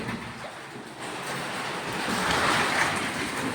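Typhoon floodwater rushes and churns into a building in Macau, a steady broadband wash that swells louder toward the end, with no voices.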